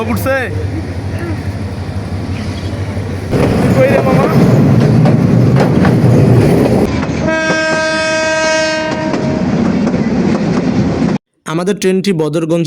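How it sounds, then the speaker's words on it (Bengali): A train rumbles and clatters nearby as it enters Badarganj railway station on platform one, then sounds a long, loud horn blast; voices are heard briefly near the end. "এক নম্বর প্ল্যাটফর্ম দিয়ে ট্রেনটি রেলওয়ে স্টেশনে প্রবেশ করেছে"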